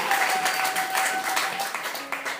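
A church congregation claps for Jesus during a sermon, producing a sustained, fairly loud burst of mixed clapping and crowd noise with some voices underneath.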